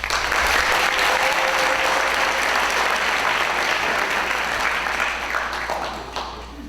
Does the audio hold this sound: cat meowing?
no